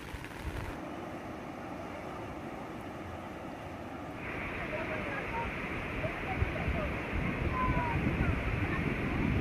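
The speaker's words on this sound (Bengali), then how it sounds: "এদিকে বর্ষার উত্তাল সমুদ্র সৈকত, দেখুন কি অপূর্ব সুন্দর লাগছে" Rough monsoon sea waves at Digha beach roll in as a steady broadband roar that grows louder partway through, with wind buffeting the microphone.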